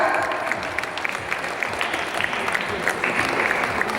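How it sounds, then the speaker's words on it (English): A graduation ceremony crowd at a school claps for a grade 5 teacher, a dense, lively round of applause that holds steady and close for the whole stretch. "Big round of applause for her."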